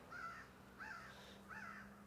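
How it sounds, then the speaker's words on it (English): Three harsh caws from a crow, evenly spaced about a second apart, moderately distant against a quiet outdoor background at sunrise in Allegany State Park. "Lots of crows out today as well."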